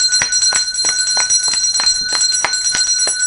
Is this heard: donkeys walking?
no